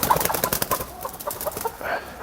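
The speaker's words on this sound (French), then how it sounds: "vous avez pu voir l'envol du soir." Chickens flap up to their roost in the evening, a close burst of rapid wingbeats and scuffling with a few clucks over about two seconds.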